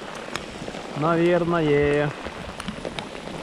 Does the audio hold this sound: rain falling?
yes